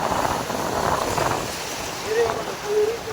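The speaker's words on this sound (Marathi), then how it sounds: "पाणी आता वटतंय आणि लाटा बघा इथे किती" Sea waves washing against a rocky shore during rod fishing, a continuous rushing surge with wind buffeting the microphone and a voice talking over it.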